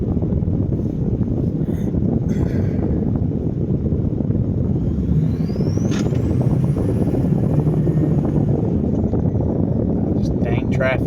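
Ford 6.0L Powerstroke diesel truck driving in traffic, a continuous loud low engine rumble with road and wind noise throughout, a brief whistling tone rising midway.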